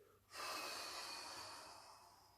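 During a yoga abdominal and glute exercise, a person draws in one long, close breath. It starts suddenly, stays steady and fades slowly over about two seconds, with no talk.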